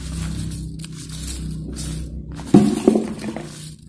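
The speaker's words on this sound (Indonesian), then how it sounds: "Kita bakal kocok hadiahnya." Folded paper lots shaken together for a giveaway draw of dolls: a short rattling, clinking burst partway through, rising over a steady low background hum.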